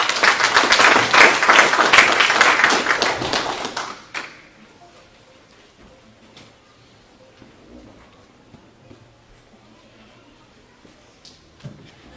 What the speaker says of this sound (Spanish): Un aplauso para el Señor